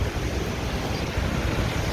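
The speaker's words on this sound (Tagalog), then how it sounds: "Malakas pa rin yung hangin." Strong wind during Typhoon Uwan roars steadily against the microphone, a dense, constant low rush with no pauses.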